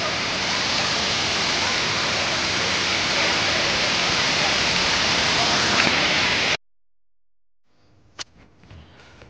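Tirathgarh waterfall roars as a dense, steady wash of falling water for several seconds, then cuts off abruptly into near silence with a few faint knocks.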